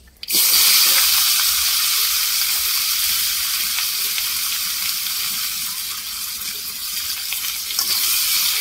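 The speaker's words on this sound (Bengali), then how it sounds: "আর মাঝে আলু আর এই ডাঁটা কেটে রেখেছি, একসঙ্গে ভেজে নেব" Cut potato and vegetable stems frying together in hot oil, giving a loud, dense, continuous sizzle that starts abruptly and holds steady without pause.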